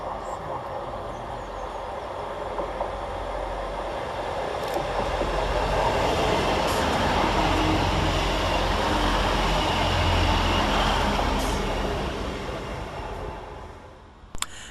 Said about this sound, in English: Next to arrive into the station is 158755, working the 11:51 Northern service from Wigan North Western to Leeds via